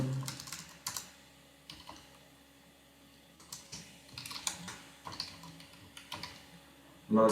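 Keystrokes of someone typing JavaScript code on a computer keyboard, quick uneven bursts of clicks close to the mic, with short pauses and faint background noise.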